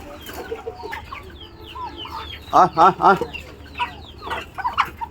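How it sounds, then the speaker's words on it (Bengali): Tiger and native chickens clucking as they are fed, with a close burst of three loud, rising calls midway among softer chirps and clucks and faint background noise. "আজকে আমাদের মুরগিকে দেবো, দেখেন কিভাবে খায়"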